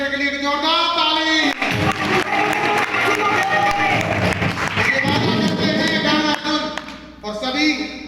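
Loud, dense clapping and cheering from a crowd at a training program in Ramnagar, honouring N.K. Singh, runs for about seven seconds with a brief dip in the middle, then eases off before a final burst.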